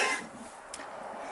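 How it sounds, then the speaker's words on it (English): A sheep on a farm gives a single short, rough cough at low volume, with no talking. "once in a while he's got a cough"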